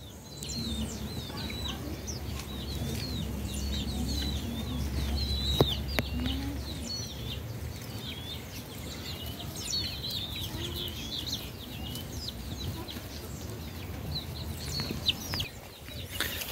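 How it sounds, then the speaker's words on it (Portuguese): Chicks cheep over and over, with soft clucking from other fowl on a small farm. The cheeps come as a steady stream of high, moderately close calls, with faint rustling under them. "A gente só tem uns pintinhos aqui pra dar uma catada aí"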